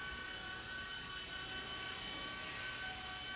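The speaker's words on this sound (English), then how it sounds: "It's a great helicopter for indoors when it's too windy outside to be flying" A New Art Tech Firefox 4-channel RC helicopter hovers indoors, its small rotor and motor giving a constant, close, high-pitched buzzing whir with no break.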